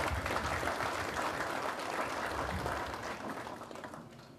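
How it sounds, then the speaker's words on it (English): Audience applause at the opening of a health center in Lautoka, Fiji, a sustained, fairly distant wash of many hands clapping that holds steady and then gradually fades, with no talk over it. "I again ask you all to give him a special round of applause."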